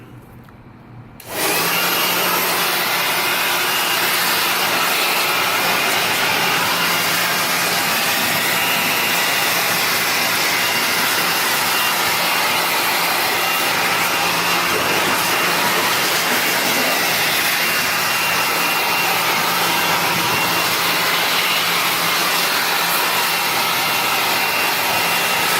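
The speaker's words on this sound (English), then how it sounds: "Which is getting the blower. I wish it had like a lower setting, but only had one setting and it's pretty high" An air blower with a single high setting blasting dust out of a car engine bay starts abruptly, then runs as a loud, steady, close roaring hiss that lasts without letting up.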